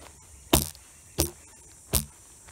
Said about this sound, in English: Sorry about the banging. I've got my bottle out.